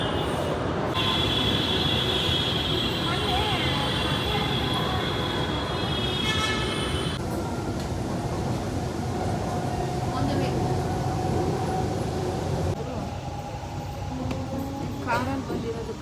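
A Bangalore metro train runs along the track with a continuous loud rumble and rail noise, a brief high whine early on, and faint voices in the carriage.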